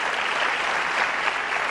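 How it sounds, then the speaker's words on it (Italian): A television show audience breaks into applause, dense and steady clapping from a crowd that fills the whole short moment without a break. "E qua ci vuole l'applauso"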